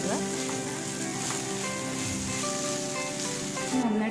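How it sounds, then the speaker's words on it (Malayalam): Grated coconut sautés in hot oil with mustard seeds for a Kerala-style kappa and chemmeen dish, giving a continuous soft sizzle under background music. "നമുക്ക് ഒതുക്കി വെച്ചേക്കുന്ന തേങ്ങ ഇതിലേക്ക് ഇട്ട് കൊടുക്കുക. ഇട്ട് കൊടുത്ത് നമുക്ക് നന്നായിട്ട് വഴറ്റിയെടുക്കുക."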